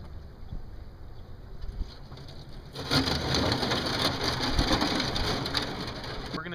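A duck boat pushes through a thin skim of ice on cold water while out fishing for perch, giving a crunching, crackling surge that grows louder and denser midway and stays close, with no talking.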